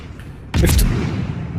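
Naval guns from a World of Warships destroyer fire in a single loud, booming blast that rolls into a sustained rumble, with no talking.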